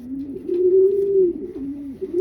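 A racing pigeon gives a soft, low, rolling coo close by, one continuous throaty call that dips and swells over a couple of seconds with no other sound around it.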